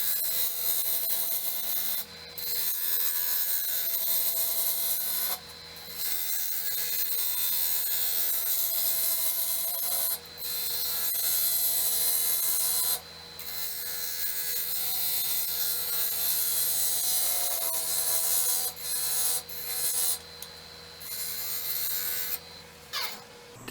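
A box elder burl bowl turning on a wood lathe, giving a steady close hum and scraping rasp of tool on wood, broken by several short pauses.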